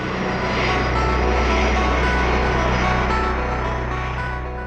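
A British Aerospace 146 high-winged jet airliner, a loud, steady broadband engine roar that swells slightly and then eases off, with no voices.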